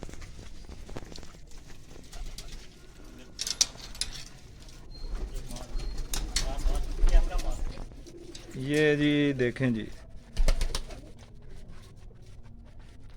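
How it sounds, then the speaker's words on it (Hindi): Pigeons gather around a dish of honey water, some pecking at grain, with soft cooing and bird calls, scattered clicks and shuffling, and a brief louder burst of birdsong midway; a person speaks at the start. "कबूतर पानी पी रहे हैं।"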